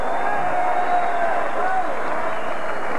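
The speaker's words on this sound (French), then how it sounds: "Bonne main d'applaudissement pour ces 2 guerriers." Boxing arena crowd noise at a bout between Dingaan Thobela and Davey Hilton, a broad steady wash of applause and crowd murmur, loud and continuous, with an announcer's voice talking over it.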